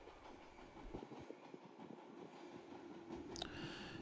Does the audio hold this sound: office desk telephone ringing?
no